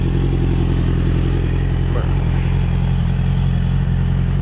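A Yamaha R6 sport motorcycle engine idles steadily and loudly at close range on a cold street ride, a constant throbbing rumble with a brief clatter midway.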